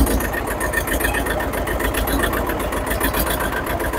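A tractor engine idles on a farm, running close and steady with a fast, even mechanical chugging that holds at a constant level from start to finish.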